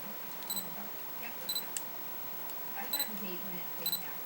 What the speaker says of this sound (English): when you can use the vertical shutter or the portrait shutter right here